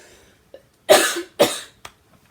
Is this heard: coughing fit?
yes